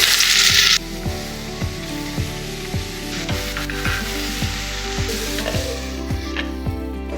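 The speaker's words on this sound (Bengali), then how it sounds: "এবার দিয়ে দিব যে ধুনধুন কেটে রেখেছি পরিমাণ মতো লবণ আর অল্প সামান্য হলুদ" Chopped sponge gourd with salt and a little turmeric hits hot oil with a loud burst of sizzle, then settles into quieter steady frying under a series of sharp, regular rhythmic clicks.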